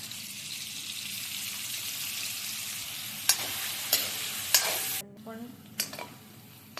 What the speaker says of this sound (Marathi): पनीर आपल्याला छान असं लालसर शॅलो फ्राय करून घ्यायचं आहे.